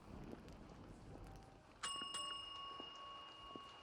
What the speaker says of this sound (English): that bell is really loud for me as well.